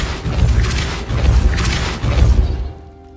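Spell blasts from Depulso and Confringo in the Hogwarts Legacy video game: three loud booming impacts in a steady rhythm, each with a crackling burst, fading to quiet at the end.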